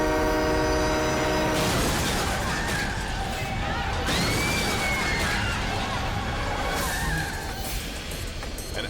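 A Houston light rail train rumbles and sounds its horn in a loud, steady street scene, with tonal horn blasts at the start and a rising squeal midway over continuous traffic and rail noise.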